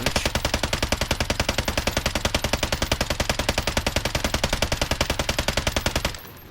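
A new light machine gun in the video game Warzone fires one long, sustained automatic burst of rapid, evenly spaced shots, loud and close, before cutting off abruptly near the end.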